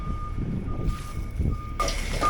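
A truck backing up while backfilling a yard sounds repeated reversing beeps in a steady rhythm over a low diesel rumble, close by and fairly loud.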